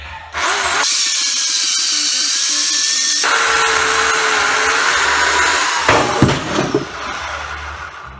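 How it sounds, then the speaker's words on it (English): A chainsaw roars steadily through a large plum trunk on a workbench, its whine shifting pitch as the cut progresses, then winds down with a few clunks at the end. "So, let's cut some wood."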